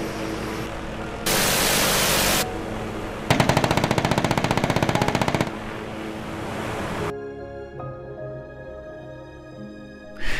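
The Shrike 530F helicopter's guns firing in Microsoft Flight Simulator: a loud burst of noise, then a rapid rattling volley of shots lasting about two seconds, followed by a rushing roar and a whining engine tone.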